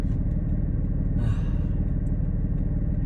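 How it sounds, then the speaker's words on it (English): Cabin view of a Porsche Cayman GT4 (718) with its mid-mounted engine running, a steady low mechanical drone filling the interior with a brief rise in intake noise partway through. "The engine's right in the center, right in the middle. So you get to hear everything."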